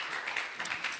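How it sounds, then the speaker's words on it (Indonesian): Congregation at a Sunday worship service in Makassar clapping for the leaders, a brief burst of crowd applause with a few distinct louder claps standing out, close and continuous. "tepuk tangan dulu untuk para pemimpin"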